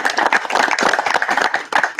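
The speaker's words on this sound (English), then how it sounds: "let's give a quick round of applause to Jen and Bob" A small audience at a panel discussion on gender diversity gives a quick round of applause, the individual hand claps close and distinct, brief and lively.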